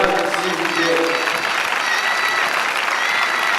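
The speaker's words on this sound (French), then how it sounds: "je vous demande d'applaudir Baptiste Carrel et Anne Lafave" A crowd applauds medal presenters at a French national championship bout, a dense, close clapping wash with faint tonal voices or noise running underneath throughout.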